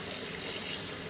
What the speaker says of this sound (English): So, just run it over with cold water, all the protein's gone.